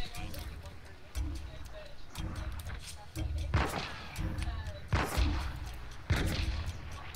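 Repeated gunshots ring out in a bounty-hunting video game, sharp bursts spaced a second or so apart over a steady background, with game sounds and voices mixed in.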